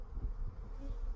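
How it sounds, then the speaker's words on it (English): Honey bees buzzing as they are shaken out of a hive box, a low, close, continuous drone that rises and falls briefly with no talk. "I'm gonna shake all the bees out here."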